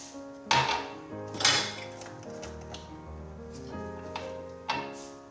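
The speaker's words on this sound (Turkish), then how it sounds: "Havalandırıyorum, çırpıyorum." Pistachio cake batter is whisked in a bowl, giving scattered ringing clinks and taps of the whisk against the bowl, with two sharper strikes early on and softer knocks after. Fairly quiet, with no talking.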